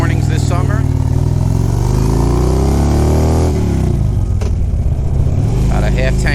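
A Honda Silver Wing motorcycle engine drones steadily on a summer morning ride, with a low continuous rumble and pitch shifts as speed changes, loud and close throughout while someone speaks over it.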